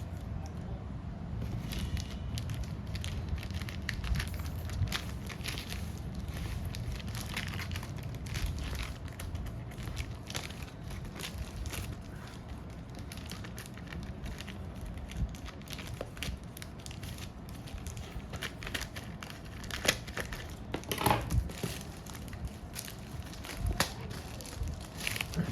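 A 1 kg package of unflavoured whey protein is unboxed: quiet, intermittent crinkling, rustling and tearing of packaging at close range, with scattered louder crackles.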